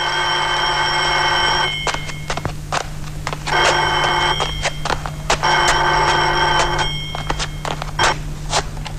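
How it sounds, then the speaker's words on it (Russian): Old landline telephone bell in a film excerpt, ringing in loud repeated bursts separated by short pauses, clear and close. "Старый телефон совсем."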